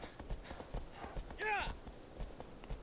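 Horse hooves clip-clop in a steady walking rhythm in Shadow of the Colossus, with a brief whinny-like call midway and someone talking over it.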